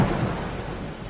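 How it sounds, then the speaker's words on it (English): Heavy rain with rumbling thunder from a thunderstorm, a dense, steady roar with deep low rumble at the start, loud and continuous, with no voices. "The weather is generally pretty crazy, some very strong winds and quite destructive rains that can go on for quite a long time"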